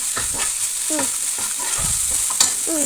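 Mutton being stirred in a pan with ginger spice paste and oil, with steady sizzling and repeated scraping strokes of a spoon, close and fairly loud, under faint voices.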